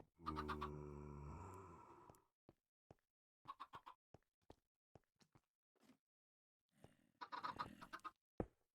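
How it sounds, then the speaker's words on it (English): Chickens clucking and squawking near a coop, with a burst of loud harsh calls at the start, then scattered short clucks and a second noisy flurry near the end, no talk. "crazy chickens"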